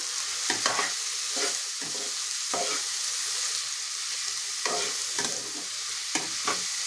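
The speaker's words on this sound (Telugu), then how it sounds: "బీరకాయ కొంతసేపు నూనెలో మగ్గితే చాలా బాగుంటుందండి" Ridge gourd pieces fry in oil, a continuous sizzle with repeated spoon-stirring scrapes at irregular intervals, close and alone.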